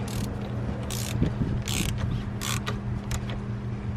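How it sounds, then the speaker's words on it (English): A ratchet turns a 19mm socket on a BMW E92 oil cooler, giving rapid bursts of clicking pawl strokes in short repeated runs, close and crisp. "this is going to be a 19mm socket that you're going to want to use"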